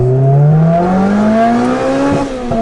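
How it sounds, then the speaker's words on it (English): A Lotus Exige S engine revs up, loud and close, with a smooth rising drone that climbs in pitch and then briefly dips near the end. No one speaks over it. "Oh my god, dude, it sounds so good. It sounds like a race car, man."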